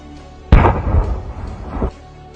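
A TNT explosive device goes off in one sharp, heavy blast, loud and close, followed by a rumbling roar that lasts over a second before cutting off.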